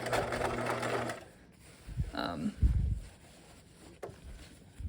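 A sewing machine topstitches the opening of a backpack, its motor whirring in short bursts with pauses between, close by and moderately loud.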